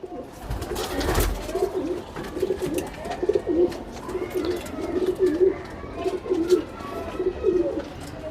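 Pairs of Salara pigeons coo repeatedly at close range in a rhythmic, throaty pattern that continues throughout, with a brief louder bump near the start.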